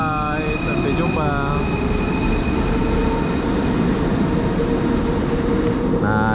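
A Kuala Lumpur LRT train on the Kelana Jaya line rolls with a loud, steady rumble, and its wheels squeal briefly a few times.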